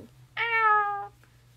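A person's voice imitates a cat, giving one loud, close, drawn-out meow that slides gently down in pitch before silence.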